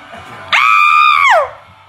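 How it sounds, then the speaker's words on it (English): An excited woman lets out one long, loud, sustained scream that rises sharply, holds for nearly a second and then falls away, with faint crowd noise beneath. "Look at that scream!"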